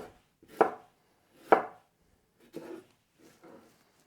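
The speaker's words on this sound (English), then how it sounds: "the rest I'm going to cut into nice long slices for my fajitas and my fajita bowl." A knife cuts a vegetable into long slices on a board. Four distinct chopping thuds fall roughly one second apart, the first two sharp and loud and the last two softer, with silence between them.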